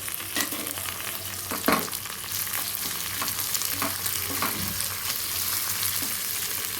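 Garlic, green chillies, urad dal and chana dal fry in hot oil for a ridge gourd peel chutney, a constant close sizzle broken by a few soft stirring scrapes.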